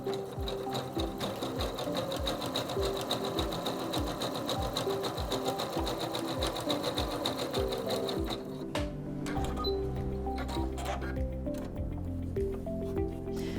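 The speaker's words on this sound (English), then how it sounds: "lower the presser foot to start sewing, and step on the foot control" A SINGER C430 sewing machine sews a zigzag stitch, a steady close rhythmic whirring with fast regular needle thumps that changes character near the end.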